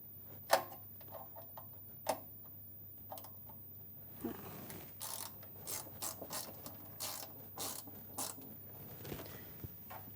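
Screws are unscrewed from the group of a Sanremo espresso machine during a group solenoid change, giving quiet ratcheting clicks and small metallic ticks and creaks in a series of short, close, uneven bursts with pauses between.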